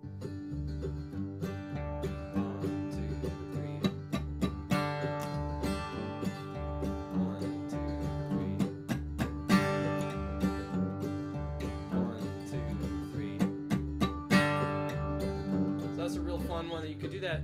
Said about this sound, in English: So we're pulling back the volume and kind of playing really staccato, short little strikes